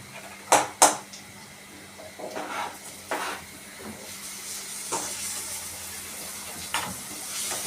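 Tomato goes into frying onions in a pan, opening with two sharp loud utensil clanks, then scattered stirring scrapes and knocks over a low steady sizzle.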